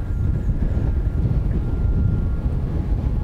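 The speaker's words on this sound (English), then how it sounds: "Wind is pushing us along pretty good." Wind pushes a canoe along a lake at Lake Superior Provincial Park as a constant low, buffeting rumble of wind against the microphone, with no talking.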